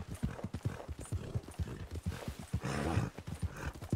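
A horse gallops cross-country in Red Dead Redemption II, its hooves beating a quick, steady clip-clop close by and fairly loud throughout.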